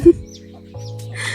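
A chicken clucks close by, a few short throaty calls in quick succession, loud and clear.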